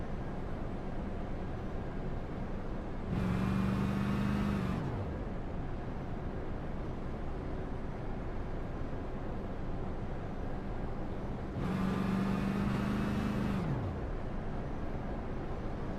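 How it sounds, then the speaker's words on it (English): An iRacing stock car in the High Slide Racing Cup Series at Kansas, its engine cutting on and off to save fuel: two separate bursts of engine drone, each lasting about two seconds and then dropping away, over quiet background noise. "It's almost comical to hear the car starting on and off like that"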